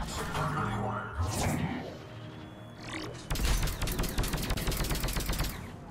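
Turret gunfire in the Mass Effect 3 video game, with a rapid, dense burst of shots starting midway and continuing to the end after a stretch of game sounds.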